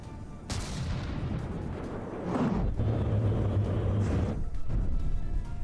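Battleship guns fire in the naval combat game From the Depths, giving deep rumbling booms and a sustained roar of artillery that swells midway, loud and continuous with no talk.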